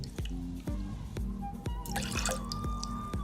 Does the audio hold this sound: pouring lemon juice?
yes